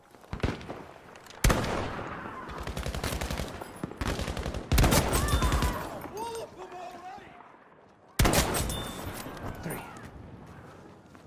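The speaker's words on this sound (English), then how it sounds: "Shot all three of them in the head" Gunfire rings out while enemies are shot in Battlefield: several sharp, loud bursts of rapid shots, each decaying into echo, with gaps of quieter ambience between them and voices talking over parts of the action.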